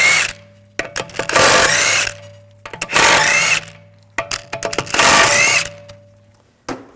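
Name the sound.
removing Audi S4 wheel lug bolts with a 17mm socket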